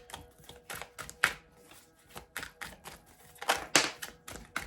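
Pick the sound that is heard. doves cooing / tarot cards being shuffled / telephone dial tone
tarot cards being shuffled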